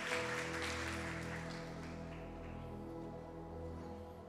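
Church congregation applauding, a steady sustained wash of clapping with an organ or keyboard tone underneath, fading slightly toward the end.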